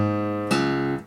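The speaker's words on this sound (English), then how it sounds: "you're going to hit it and pull off" A single guitar note is plucked and then pulled off to a lower note, producing a sharp attack midway and a brief ringing tone that fades quickly, in an easy country-style lesson.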